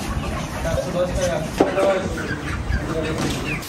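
Domestic chickens cluck in short, repeated calls from nearby, with human voices talking over and between the bird sounds.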